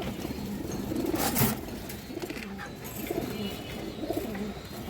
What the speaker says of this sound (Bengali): এই দেখেন অনেক চঞ্চল কবুতর